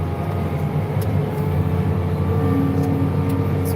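A vehicle drives steadily through mud on a farm track, a constant low engine drone with no pauses or voices throughout.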